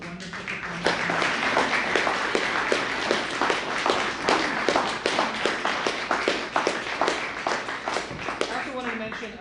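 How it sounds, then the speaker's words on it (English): A small audience applauds three poetry performers at a reading event with steady, close clapping that thins out near the end, and a voice comes in briefly. "Applause to our three wonderful performers."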